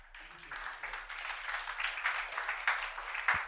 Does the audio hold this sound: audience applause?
yes